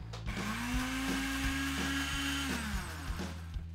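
Food processor blending chives, oregano and thyme, its motor whining at a steady pitch with rhythmic knocking thuds as the herbs hit the blade, loud and close, no talk.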